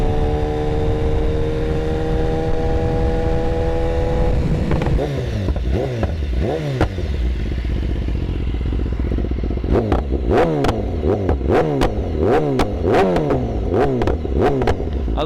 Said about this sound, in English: With the Van Diemen exhaust, man, that sound.